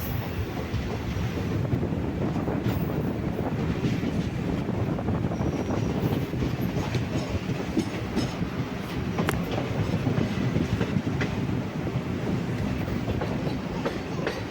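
An Ernakulam–KSR Bengaluru InterCity superfast express rumbles steadily along the tracks with a continuous rolling roar and faint rhythmic clacks, heard from inside, loud and unbroken throughout.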